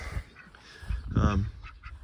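A duck quacks near an Airstream motorhome, giving several short, nasal, honking calls with one louder quack in the middle. Soft speech sits under the calls.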